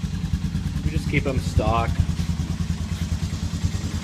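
A Honda TRX250EX ATV engine idles steadily after a cold start, a close, low, even putter that carries on throughout while someone talks over it.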